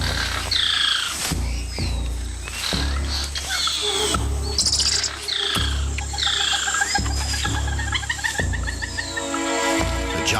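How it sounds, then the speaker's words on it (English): In the Amazon rainforest canopy, a squirrel monkey gives repeated sharp chirping alarm calls that are loud and close, spread over several seconds, with layered background rumble and other calls. "A squirrel monkey spots a harpy eagle and sounds the alarm, alerting everything in earshot."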